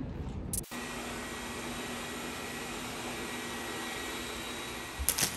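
A robot vacuum cleaner runs with a steady, even whirring drone after a brief clunk at the start, fairly close and constant throughout, with another faint knock near the end.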